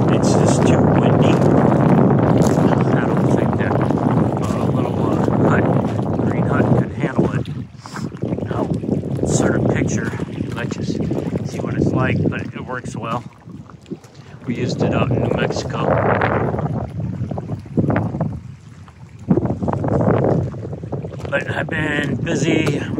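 Strong wind buffets a campsite in Kentucky, a loud, continuous roaring rush with gusty swells and brief lulls that nearly drowns everything else.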